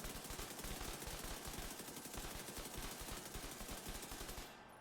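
Sustained rapid automatic gunfire from the shooter video game Tom Clancy's The Division 2, a dense, loud burst of rattling shots lasting nearly five seconds with no talk, cutting off abruptly at the end.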